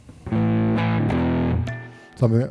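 Electric guitar played through a mild distortion effect, sustained chords ringing out close and loud, then a short pause and a fresh strummed attack near the end.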